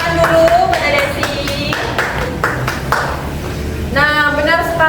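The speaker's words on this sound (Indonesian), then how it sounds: "Beri tepuk tangan dulu pada Desi" Students in a classroom history lesson clap for a classmate after her presentation, a few seconds of scattered, uneven hand claps mixed with voices talking over them.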